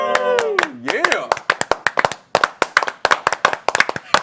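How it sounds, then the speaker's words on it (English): Sharp, rapid hand claps ring out close and loud in an irregular burst, as if from a small audience, following a brief voiced cheer at the start. "big special round of applause"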